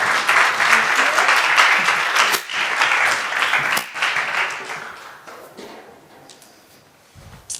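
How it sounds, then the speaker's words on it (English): Applause from an audience at a board diversity conference, loud and dense at first, then thinning and fading to a few scattered claps. "Please join me in a round of applause"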